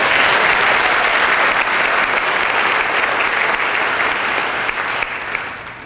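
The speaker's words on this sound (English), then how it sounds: "Let's give the band another round of applause for that." Loud, sustained applause from a concert audience for a community concert band at a fall concert, a dense wash of clapping that holds steady throughout and thins slightly at the end.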